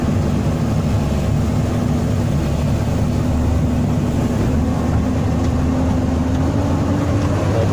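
Steady, loud engine drone of an excavator being test-run after sinking in peat, a continuous low rumble that holds throughout without pauses or speech.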